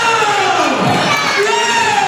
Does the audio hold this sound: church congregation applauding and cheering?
yes